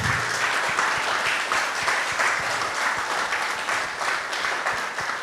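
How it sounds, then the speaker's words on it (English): A church congregation claps in sustained, dense applause, loud and even for several seconds, with a voice faintly audible beneath it. "Let's give a round of applause to God."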